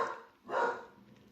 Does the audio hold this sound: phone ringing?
no